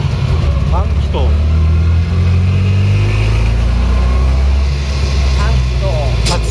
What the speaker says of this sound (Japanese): エンジンはね、単気筒だもん。